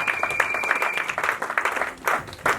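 A church congregation applauding, a dense patter of many hands clapping at a fairly close range, with rising and falling bursts and a faint voice mixed in.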